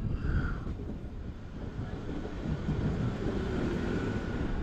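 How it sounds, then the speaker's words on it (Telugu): Bilaspur–Katni local train passing near a long goods-line bridge under construction in India, a steady broad rumble with wind buffeting the microphone, fairly loud and continuous throughout. "బిలాస్పూర్ కట్నీ లోకల్ ట్రైన్ ఇది"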